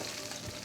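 Meat fries in a pan with a soft, steady sizzle, faint and brief with no talk.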